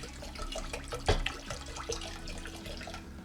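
Beet water and vinegar poured together for homemade pickles, a steady close liquid splash and trickle with a few brief clinks, no talking.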